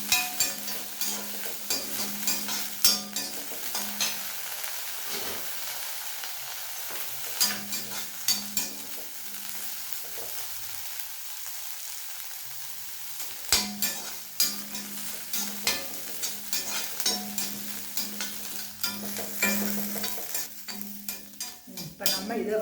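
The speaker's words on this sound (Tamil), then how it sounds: "கொஞ்சம் மீடியமில் வச்சு வறுத்து எடுக்கிறோங்க." Prawns roast in a pan over medium heat, giving a steady close sizzle and frying hiss broken by frequent scraping stir strokes and light clinks of a utensil against the pan.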